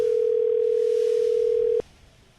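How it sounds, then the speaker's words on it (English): A steady electronic telephone tone sounds on a radio show call line, one continuous buzzing note held for nearly two seconds before cutting off abruptly into quiet room noise. "It's ringing."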